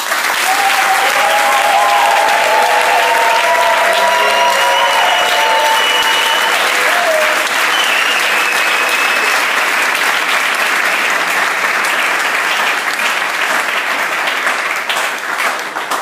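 Sustained applause from a church congregation during a baptism service, steady and loud for the whole stretch with a few faint voices mixed in.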